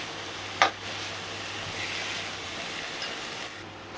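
Crushed coconut being stirred into a banana flower stir-fry in a pan, a soft steady sizzle with light scraping of the spoon and one sharp clink early on, close and quiet, with no talk.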